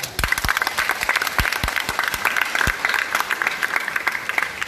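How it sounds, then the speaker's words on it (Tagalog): Audience applause at a Catholic diocesan church gathering, a steady spread of many hands clapping at moderate distance, continuous throughout with a dense, even texture. "Busa kaninyong tanan atong tagaang palakpak."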